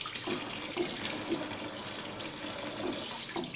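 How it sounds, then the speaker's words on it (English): Water runs steadily from a kitchen tap while spring onions are rinsed under it, giving a continuous close splashing hiss with no talk. "Now, wash the onion spring. Wash it thoroughly because the dirt and the sand stick pretty well onto the leaves."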